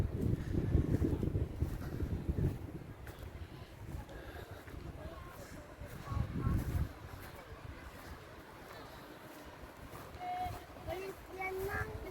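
Blustery wind at Salacsac Pass buffets the microphone in rough gusts, with people talking faintly underneath.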